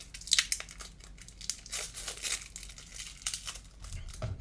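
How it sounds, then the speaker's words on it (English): Knife slicing open the plastic wrap on a card booklet, with close crinkling and tearing of the film in irregular bursts and short sharp crackles. "Just going to cut that open with my knife."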